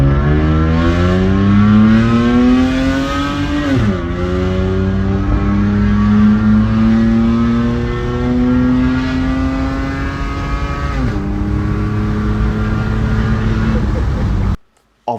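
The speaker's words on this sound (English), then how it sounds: "I did drive it all the way from work to home without a muffler," A car driven with its muffler removed, a loud raw exhaust drone rising in pitch through gear changes as it accelerates, heard from inside over about fifteen seconds before cutting off.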